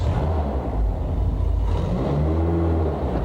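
A late-1990s IndyCar engine pulls away in first gear, a loud, continuous close-up roar with a low rumble whose pitch begins to climb toward the end.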